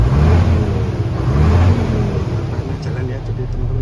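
A 2011 Hino FM 320 6x4 diesel truck engine revs up loud and close, a dense low rumble that rises and settles over a few seconds with no talk.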